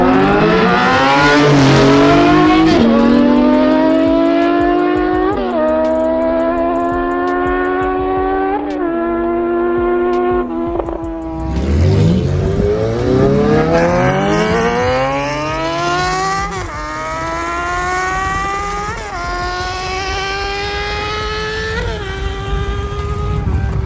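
A Porsche GT2 RS and a motorcycle in a roll race on the road, engines roaring loud and close as both accelerate hard through repeated upshifts, the rising whine dropping briefly at each gear change, with no talk.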